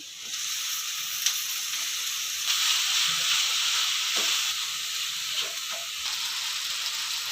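Onions and tomatoes fry in a pan for a Chettinad chicken curry, giving a steady, fairly loud sizzling hiss throughout, with a few soft stirring knocks and no talking.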